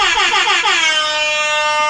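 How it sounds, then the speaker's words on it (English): A loud, blaring air horn sounds in quick repeated blasts, then holds one long sustained honk. "gotta get the air horn popping"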